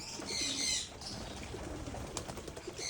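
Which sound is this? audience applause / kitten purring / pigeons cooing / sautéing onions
pigeons cooing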